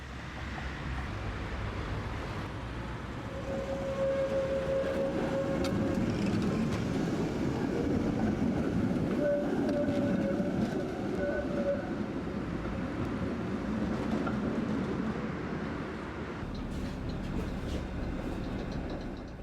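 A Brussels tram runs along a major line mostly on its own reserved track, rumbling steadily close by. Its sound swells and fades, with faint squeals and tones from the wheels.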